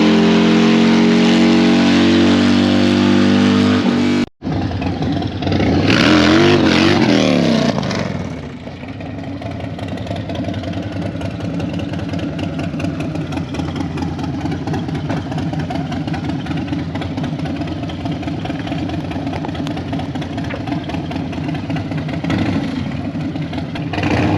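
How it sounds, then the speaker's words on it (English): A motorcycle engine being tuned runs loud and close, first revving hard, then cutting out abruptly before settling into a rough, continuous idle with occasional surges. "So we're here, loud, tuning the bike."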